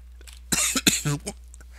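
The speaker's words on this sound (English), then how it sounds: "Like a hiccup and a cough and everything in between at the same" A person coughs and hiccups in quick succession, several short sharp bursts close up against a quiet indoor background.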